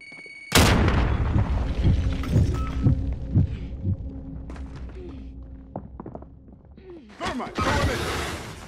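A frag grenade detonates in a video game with a sudden loud booming blast, followed by lingering rumble, low thumping and scattered game effects, with a second burst of noise near the end.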